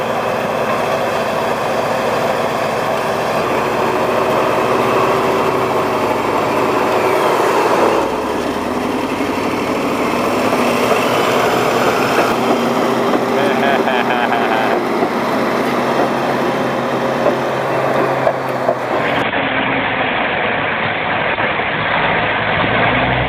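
A Caterpillar D11R bulldozer engine roars continuously at a heavy-equipment worksite, loud and sustained throughout, with a low rumbling drone and a narrator's voice partly over it.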